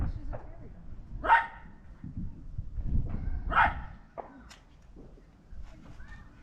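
A terrier gives two sharp barks about two seconds apart, fairly close, over a murmur of background noise and some distant activity.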